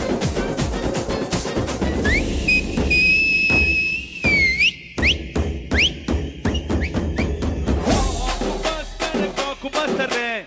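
Sharp rising and sliding whistles cut through loud pounding music and crowd noise at a film success celebration in Vijayawada, bursting out in the middle of the clip among steady beats.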